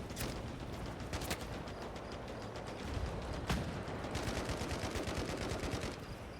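Dense gunfire rattles nonstop in the video game Hell Let Loose: Vietnam, bursts of automatic fire and single sharp shots overlapping in a loud, continuous battle din.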